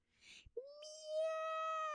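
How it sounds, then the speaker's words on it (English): A cat gives a long, drawn-out plaintive meow after a short breathy sound, close and alone, rising then sustained. ""Meow," said Thomas A. Becket in a plaintive tone."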